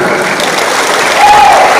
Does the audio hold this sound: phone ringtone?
no